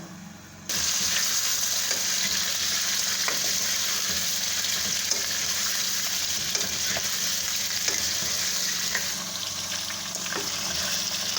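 Chicken pieces frying with whole spices in a hot pan, a loud, steady broadband sizzle that starts abruptly and holds for over ten seconds, with occasional stirring clicks and pops and no speech.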